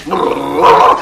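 A large black dog growls and barks in a radio comedy sketch, a loud, close, rough snarling burst lasting about a second.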